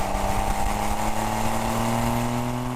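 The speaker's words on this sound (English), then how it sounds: "The exhaust sound is like a melody, morphing and evolving as the revs climb." A Porsche 911's flat-six sports exhaust drones steadily and loudly while the car is driven through its seven-speed manual gearbox, a continuous layered engine note with no talking.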